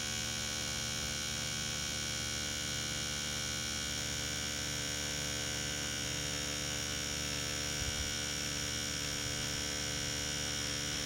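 An Ez Tattoo nano tattoo machine running at 5.5 volts while packing black ink, giving a steady close electric hum that holds unchanged throughout with no speech.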